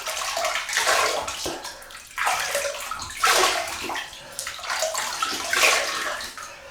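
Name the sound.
water wetting face before shaving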